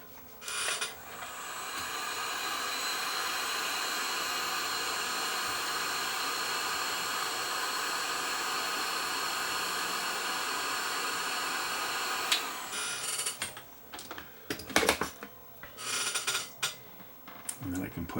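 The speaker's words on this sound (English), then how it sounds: "So I'll pull some heat shrink tubing up over there, and then we'll heat shrink that down." A heat gun shrinks heat shrink tubing over rewired capacitor leads in a 90-year-old Sparton radio, giving a steady, close blowing hiss for about twelve seconds, then clicks and handling noises as it cuts off.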